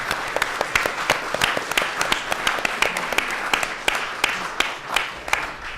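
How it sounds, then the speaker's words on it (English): Sparse applause from a small group, individual claps distinct and uneven, moderately close, lasting a few seconds. "Let's give them a round of applause."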